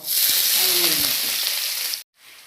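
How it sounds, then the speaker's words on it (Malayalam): Mustard seeds with crushed ginger and garlic fry in hot oil, giving a loud, dense crackling sizzle that runs steadily for about two seconds and then cuts off abruptly into near silence. "എണ്ണ ചൂടായി. 1 ടീസ്പൂൺ കടുകിട്ടു."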